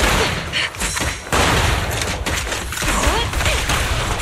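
Gunfire in the video game Zenless Zone Zero, a dense, loud barrage of overlapping shots and booms forming a continuous roar with brief dips, no voices heard.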